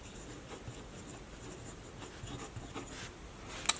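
A Kaweco Sport fountain pen nib scratches across paper in faint, quick strokes, ending with a sharp click.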